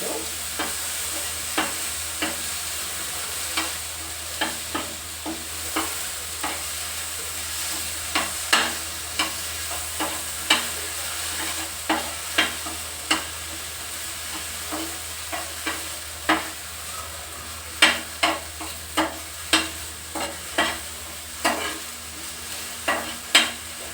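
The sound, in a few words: mushrooms with pepper frying and stirred in pan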